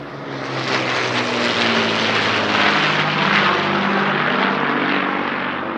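Battle of Britain Memorial Flight vintage propeller aircraft fly by at the East Kirkby airshow, a loud throbbing engine drone with a rich, rough tone that builds quickly and holds steady before easing slightly.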